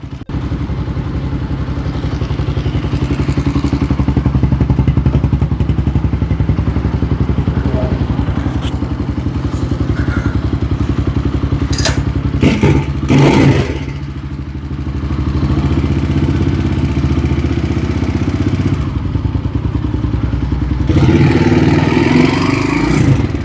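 A motorcycle engine runs steadily and loudly nearby, with some clattering and a brief dip before the engine picks up again.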